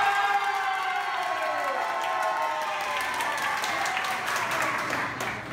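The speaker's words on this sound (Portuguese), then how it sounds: "Uma salva de palmas pro casal número 3." At a ballroom dance show, the audience applauds and cheers for a dance couple, a moderately loud, continuous spread of clapping mixed with whoops and crowd noise, with sustained music tones underneath.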